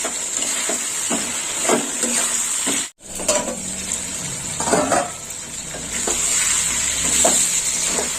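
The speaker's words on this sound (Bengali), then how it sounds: "আর দিয়ে দেবো পাঁচটা কাঁচা লঙ্কা চেরা এবার একটু কষে নেবো" Pointed gourd sautéing in a pan with five slit green chillies, a steady close sizzle with spoon scrapes and stirring clatter throughout, briefly cut off once near the middle.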